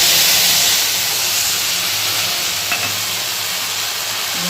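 Chili paste fries in hot oil with nigella seeds in a wok for a vegetarian kochur loti dish, a loud, steady, close hiss and sizzle running throughout, with one brief clink and no talking.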